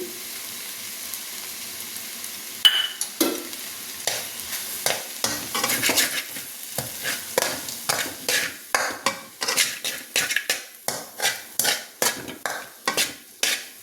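Okra frying in a pan as a coconut chili spice mix is stirred through it: repeated scraping, clattering stirs that grow steadier and more rhythmic over a soft background sizzle, close and fairly loud.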